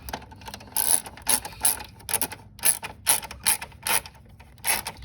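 A ratchet tightening the battery tie-down screw on a 1998 Mitsubishi Eclipse GS-T, a series of quick, close clicking bursts in an uneven rhythm, with no talking.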